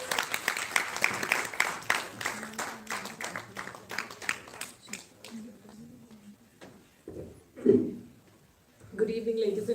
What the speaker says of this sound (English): Big round of applause for Dr. Ramandeep Singh.